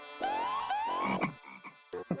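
A frog croaks in a series of rising, nasal calls, loud and close, with short breaks and a few quicker bursts near the end, with no talking.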